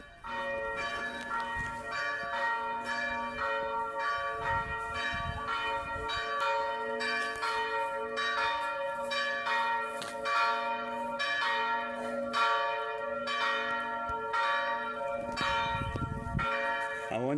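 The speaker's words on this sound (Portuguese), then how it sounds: "não haverá também mais o barulho desses sinos" Church bells ring continuously in a rich, overlapping peal, repeated strikes blending into sustained resonant tones at steady volume throughout.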